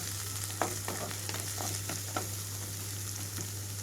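Carrot and green beans frying in a pan for vegetable fried rice, a steady close sizzle with a few stirring scrapes and a constant low hum underneath.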